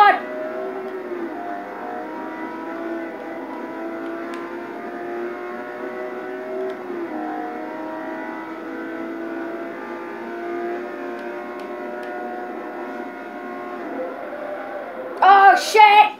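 A Bugatti's engine drones and revs steadily in a racing video game, a sustained mid-pitched whine with shifting tones throughout, ending in a brief louder burst.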